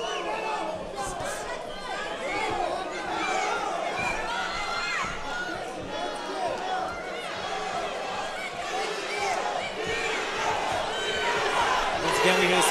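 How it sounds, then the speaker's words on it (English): A boxing arena crowd at a WBC bout chants a fighter's nickname in a steady rhythmic roar, loud and continuous, with a commentator talking over it. "You're hearing them chant the name of Beaver, Santiago's nickname."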